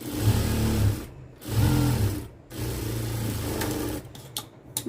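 A sewing machine stitches a blouse lining in three bursts of steady, close motor hum, with short pauses between runs and a few light clicks near the end.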